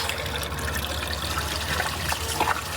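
Muddy brown water trickling and splashing steadily through the radiator of a 58-year-old English Nugget, a close, continuous liquid rush with no voices.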